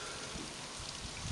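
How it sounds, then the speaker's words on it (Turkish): Light morning rain falls steadily in a garden with blooming trees, a soft, even wash of drops close by with no voices. "Hafifçe bir yağmur yağıyor."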